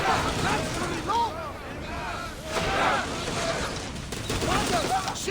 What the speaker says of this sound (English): We need to brace against those fire volleys!